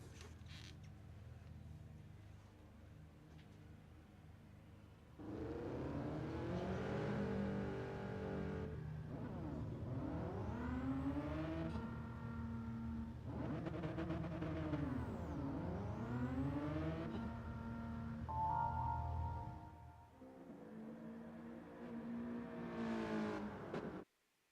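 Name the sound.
race car engine noise in Gran Turismo 7 video game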